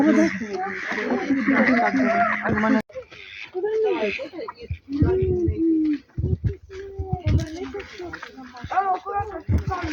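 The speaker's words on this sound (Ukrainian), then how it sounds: "А Голуби сидять на деревах, и білі, и Сири." Pigeons perched in trees coo repeatedly nearby in throaty, rolling calls, mixed with people talking and some background bustle at the Truskavets resort.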